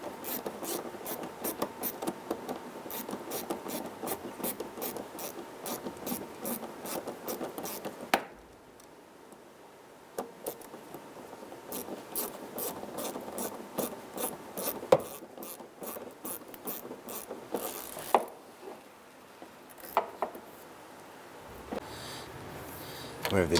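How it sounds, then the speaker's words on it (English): A fuel filler neck hose clamp on a 2005-2007 Jeep Liberty is tightened with a ratcheting tool, giving long runs of rapid, even clicking that pause and resume, with faint scraping and handling noise between runs. "let's go ahead and tighten up this filler neck clamp."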